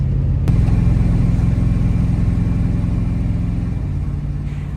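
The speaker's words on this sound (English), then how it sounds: "Truck's running real good now." A dually pickup truck engine idling close by, a loud steady low rumble with an even, unbroken drone throughout and no talk.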